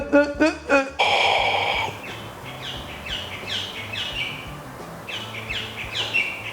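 A bird calls loudly nearby in a series of sharp, repeated chirps and squawks beside a Weber kettle grill, with background noise and brief voices.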